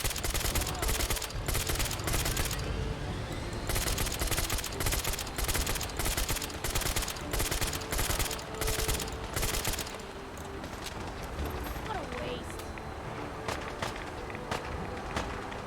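Sustained bursts of automatic gunfire in a video game battle, loud rapid volleys in dense clusters through the first ten seconds, then lighter scattered shots and footsteps beneath.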